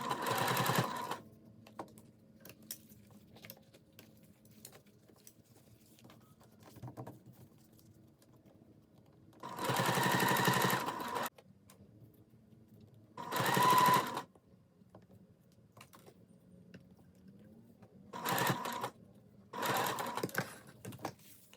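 Sewing machine basting a placket on a fabric top, running in several distinct bursts of stitching, the longest about two seconds, separated by quiet pauses with faint handling noise.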